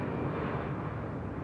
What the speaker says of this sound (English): and that's a plane